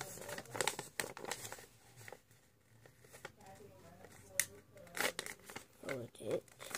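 Paper being creased and folded into a fortune teller, close crinkles and sharp rustling snaps in uneven bursts, quiet between folds, with a person talking over it.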